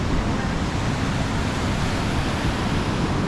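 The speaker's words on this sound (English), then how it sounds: "Listen to the waves" Ocean surf breaking at Pismo Beach makes a steady, full roar of rushing water that stays constant throughout, with no talking.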